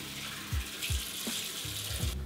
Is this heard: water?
yes